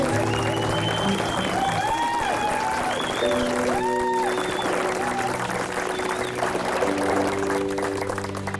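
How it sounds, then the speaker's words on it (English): Applause from a lakeside crowd honoring canoe paddlers, a sustained wash of clapping with tonal chirps and voices layered over it throughout. "Give these guys a round of applause."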